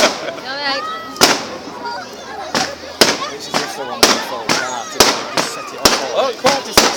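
Bonfire night fireworks going off in a rapid series of sharp, loud bangs and crackles at irregular intervals, with whistling rockets and a busy outdoor background of voices and shouting throughout.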